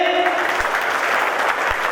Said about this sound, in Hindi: ऐसे लोगों को इतनी तालियां बजाइए